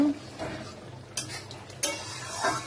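A spoon stirring catla fish curry in a pan after garam masala goes in, a few scraping clinks and soft sizzling, close and quiet, with brief sharp knocks against the pan.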